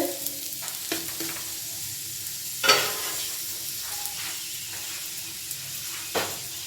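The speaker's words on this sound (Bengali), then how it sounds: "উল্টে দিলাম, এদিকটাও কিন্তু সুন্দরভাবে ভাজা হচ্ছে।" A cauliflower paratha fries in a pan, giving a soft, steady sizzle with scattered stirring scrapes and one louder clatter near the middle, close and without any talking.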